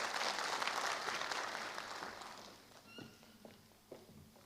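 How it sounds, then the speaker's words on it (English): A crowd at an entrepreneurship talk claps warmly as a speaker is invited on stage, loud at first then thinning out to a few scattered claps and footsteps. "let us all give him a warm round of applause and welcome him"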